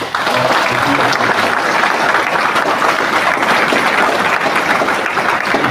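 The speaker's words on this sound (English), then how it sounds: "I start with a huge round of applause to all the organizers" A large audience at a rural management conclave at XIM University breaks into a sustained round of applause, a dense, steady wash of clapping that fills the whole stretch at close range with no speech over it.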